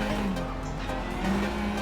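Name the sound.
rally car wheel spin in WRC Generations video game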